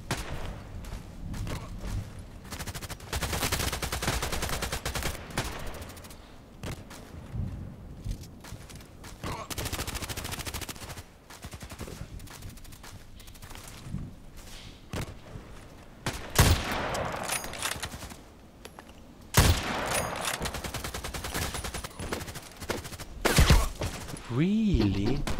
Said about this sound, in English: why is he shooting in this position?